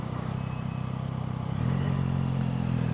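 Yamaha Tracer 9 GT+ touring motorcycle riding through town, its engine a steady low drone that swells a little louder partway through, with no talk over it.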